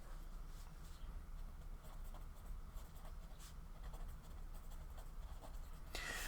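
Pen or pencil scratching across paper while notes are jotted down by hand, a steady close, quiet rustling scrawl that runs throughout against low background hum.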